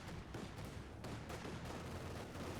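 Sniper rifle fire in the World War II strategy game Company of Heroes 2, heard amid dense, continuous battle noise of gunfire and explosions, a steady roar with no clear separate shots.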